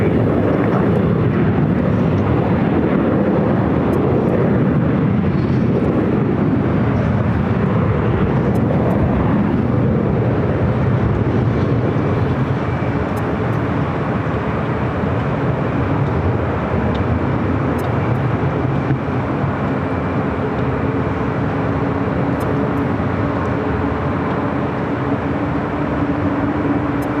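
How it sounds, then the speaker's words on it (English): Avianca Airbus A320neo jet at Los Angeles airport, a loud, steady broadband engine roar that stays constant throughout, with a faint rising whine over the rumble and no voices. "Avianca, Flight 523, heading back to San Salvador in this A320 Neo."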